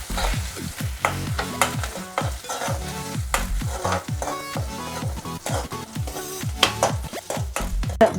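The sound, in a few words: garlic, ginger, curry leaves and green chillies sautéing in pan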